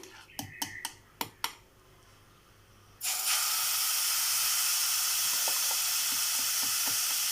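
Mango paste hits hot ghee in a thick-bottomed pan, starting a loud, steady close sizzle after a few clicks and taps, with faint scraping underneath.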